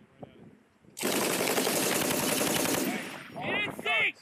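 An M240B machine gun fires one sustained burst on a U.S. Marines live-fire range, loud and rapid, followed by a short shouted voice.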